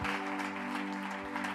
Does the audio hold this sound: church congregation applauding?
yes